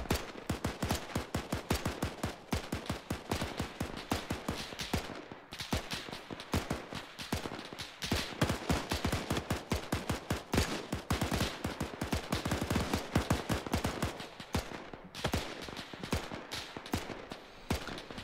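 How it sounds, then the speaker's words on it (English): Relentless rapid-fire shooting in a war video game, with dense gunshot bursts running steadily for the whole stretch and only short gaps, held at a moderate, even level with no talking. "Get the shooting started."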